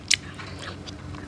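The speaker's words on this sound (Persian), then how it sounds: "قشنگ بجو" A child chews food close up. One sharp crunchy bite is followed by soft, quiet chewing.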